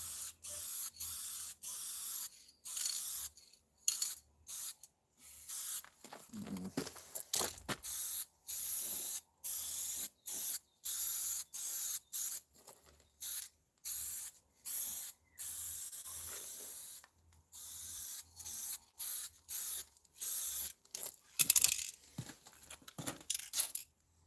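Spray paint going on in repeated short bursts, a coat being applied with brief pauses between each hissing blast, fairly close and otherwise quiet.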